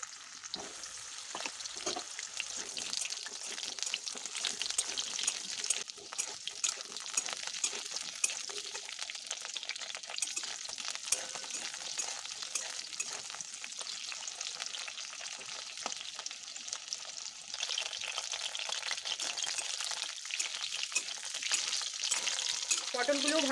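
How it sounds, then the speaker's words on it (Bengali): Pieces of pointed gourd (potol) fry in hot oil with a steady, crackling sizzle and occasional stirring clinks, fairly quiet and continuous throughout, swelling slightly louder toward the end. "এরপর আমি ভেজে নিচ্ছি পটলটা"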